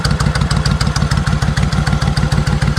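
Customized 2002 Suzuki Intruder VS1400 V-twin motorcycle running close up, a loud, steady, lumpy engine throb with rapid even pulses and no talking.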